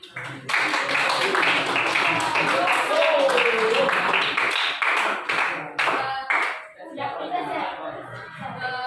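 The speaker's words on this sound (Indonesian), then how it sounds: "Oke, tepuk tangan." A school class claps their hands together in a lively burst of mixed clapping, with voices and chatter mixed in and the clapping thinning out near the end.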